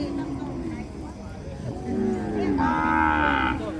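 At a cattle market, cattle moo in long, drawn-out lowing calls, two overlapping in the second half, over a busy background murmur of people and crowd noise.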